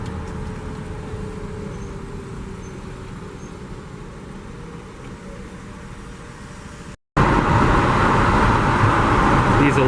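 Busy street traffic in Pudong, Shanghai, with a continuous low rumble of cars, buses and trucks passing close by, steady for several seconds, then a brief dropout followed by a louder, brighter wash of road noise.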